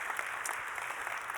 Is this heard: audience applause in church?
yes